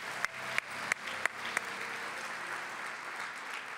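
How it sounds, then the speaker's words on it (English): Applause for students at an awards ceremony sounds soft and distant, with a few sharper clicks near the start before it fades into a faint, even wash of clapping. "Let's give the students another round of applause."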